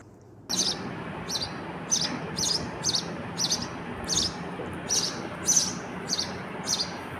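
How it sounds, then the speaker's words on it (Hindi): Repeated high, thin chirps of young birds come in regular bursts about twice a second over a steady background hiss. "ये चिड़िया ने बच्चे दिए हैं, कितनी अच्छी लग रही है आवाज़।"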